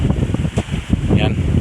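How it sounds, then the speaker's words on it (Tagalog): A strong northwest wind buffets the microphone outdoors on a lettuce farm, a low rumbling roar with gusty swells throughout, while someone talks over it. "masyadong malakas din yung hangin dito, yung northwest"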